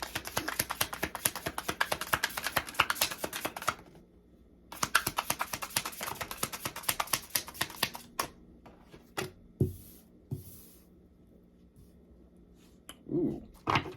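Tarot cards are taken out and handled in a quiet room, giving two bursts of rapid, crisp clicking and riffling that break off into scattered soft taps and rustles, with no voice.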